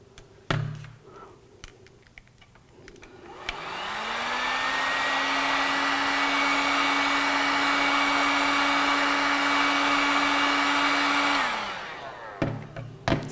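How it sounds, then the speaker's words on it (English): A hair dryer, used to warm a plastic tube for bending, switches on after a few light knocks, blows with a steady whirring roar for about eight seconds, then winds down and stops. "it may be necessary to warm it up with a hairdryer in order to bend it"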